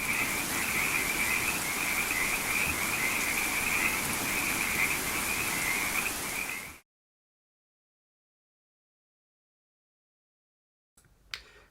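Frog croaking sound effect played in Keynote, a dense steady chorus of croaks lasting about seven seconds, then cutting abruptly to silence.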